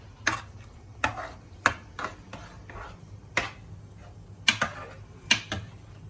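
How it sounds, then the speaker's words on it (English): A spoon mixes cooked dal in a pot, giving sparse, irregular knocks and scrapes against the vessel at close range. It is fairly quiet with no talk. "Now we just got to use this fine spoon and mix it all."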